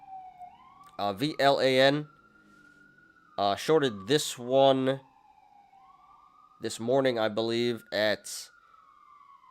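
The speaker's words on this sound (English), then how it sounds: "Sorry about the sirens, guys." Emergency vehicle sirens pass outside, a steady wailing tone running through the whole stretch while someone talks loudly over it in bursts.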